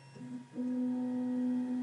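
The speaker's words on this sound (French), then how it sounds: "Vous allez entendre un petit bip qui signifie la distance parfaite entre la buse et le plateau." A short electronic beep from a Tiertime UP300 3D printer during nozzle-to-bed calibration, followed by a steady, sustained tone that holds clearly to the end, with faint mechanical hum beneath.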